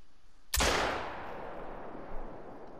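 A single loud 12 gauge slug shot fired at a moose near Layton Lake: one sharp blast with a long rolling echo that decays across the open outdoors, and no voices.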